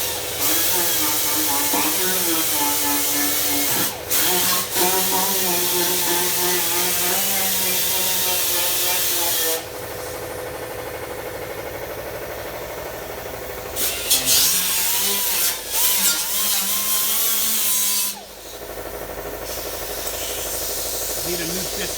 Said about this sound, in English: grind all the spot where we're gonna panel bond it to the fenders so it all sticks to it